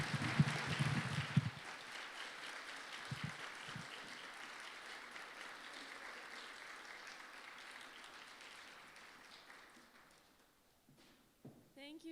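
Audience applause after a presentation, a dense wash of clapping that is loudest at the start and slowly fades over several seconds, with a few footsteps and knocks near the end.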